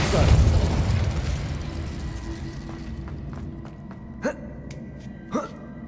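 A Depulso force spell in Hogwarts Legacy lets out a broad booming blast that fades over a second or two, followed by two short sharp impact pops.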